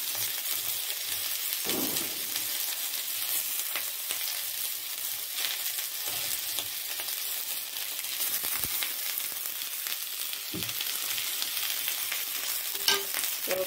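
Dried fish chutney fries in a pan with ginger, garlic and green chilli, giving a steady, close sizzle with a few faint clinks and stirring sounds.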